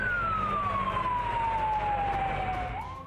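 A fire engine siren on a call to a warehouse fire in Solo, Central Java, with one long wail sliding slowly downward, loud and near over steady traffic rumble, fading slightly at the end.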